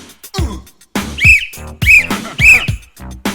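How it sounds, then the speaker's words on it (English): Three sharp, high referee whistle blasts ring out in a steady rhythm, each short and loud, with rhythmic chanting or talk between them. "that whistle's way louder than you realize"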